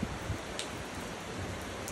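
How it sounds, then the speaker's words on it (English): Hard rain falls steadily by a pool where a blue heron fishes, a dense, even hiss close to the microphone with no voices. "It's raining hard here"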